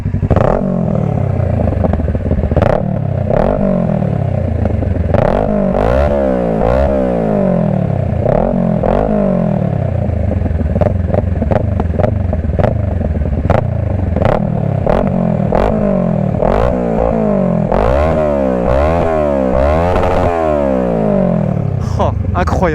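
A 2012 Kawasaki ER6N motorcycle engine revs hard and close, with repeated loud blips rising and falling in pitch, idling between bursts and ending in a long run of rapid revs, with occasional clatter and no talking.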